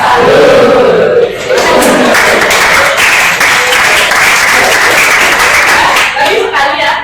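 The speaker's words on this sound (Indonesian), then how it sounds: "Tepuk salut. Jempol. Jempol." A class of students performs a rhythmic Indonesian clapping chant in a classroom, loud group claps and shouted chanting voices blending together in quick repeated bursts.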